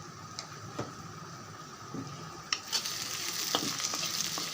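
Onion pieces frying in a pan with rock salt for a drumstick milk curry, a steady soft sizzle with a few sharp clicks of stirring scattered through, fairly quiet and close, with no voices.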